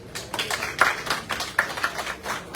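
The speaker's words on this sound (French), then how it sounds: "je vous demande d'applaudir s'il vous plaît" Audience applauding at a live health insurance outreach event in Guadeloupe, a steady patter of many hands clapping at moderate volume with no one speaking.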